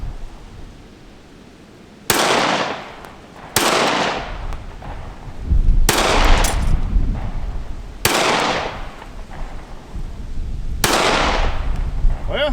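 Five sharp, loud pistol shots from an IWI Masada 9S ring out at an outdoor range, spaced a couple of seconds apart, each with a booming tail, and a voice speaks briefly between them.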